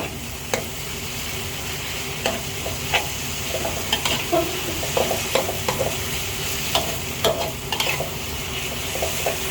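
Pork being stir-fried with chili paste in a wok, a constant sizzle under repeated scraping and clinking strokes of the spatula, loud and close, no speech.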